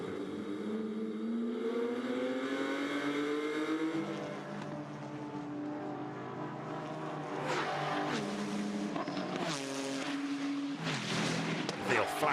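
GT4 race cars battling at Hockenheim, BMWs among them, engines howling and downshifting as they pass close, with a commentator talking over the roar.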